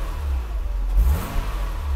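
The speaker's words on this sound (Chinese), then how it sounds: "这个103的引擎很棒的103" A 1993 Mercedes-Benz 300GE's M103 engine revs up close by, a steady low rumble that swells briefly near the middle before settling back to a smooth, even drone.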